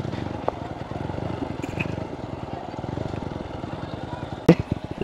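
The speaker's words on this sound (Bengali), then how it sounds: "পর্যটন আসছে বাইক নিয়ে।" Motorcycles idle and putter close by in the bike parking area at Paharpur, a steady low engine drone with a sharp clatter near the end, while people talk over it.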